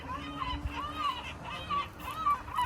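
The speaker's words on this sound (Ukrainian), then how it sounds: "Це чайки." Seagulls call in repeated short honking cries over a coastal scene at Portofino, moderately faint, with a few calls spaced across a couple of seconds and light background murmur.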